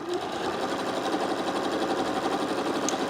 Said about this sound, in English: Let's go back stitch a little and then let's sew.